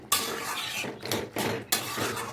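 Metal pot lid lifted off a pot of soybean and egg curry with boiled potatoes, its liquid cooked down thick; several close, sharp clatters and scrapes of metal against the pot rim.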